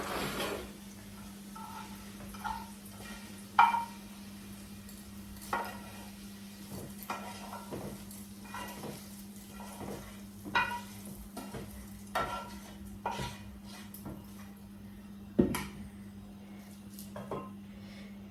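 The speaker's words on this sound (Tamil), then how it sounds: "மீண்டும் ஒரு முறை எல்லாத்தையும் சேர்த்து கிளறி விடுவோம்" A spoon stirs prawn masala frying in a pan, with a steady low sizzle and intermittent scraping and tapping of the utensil against the metal, quiet and close with no talking.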